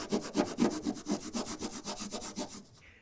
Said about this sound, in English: I've got some 3M Scotch-Brite. It's going to kind of rough up that surface a little bit.